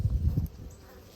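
Honeybees buzz at a hive in autumn while being fed syrup, a low droning hum that is strongest at the start and then fades to a faint background buzz.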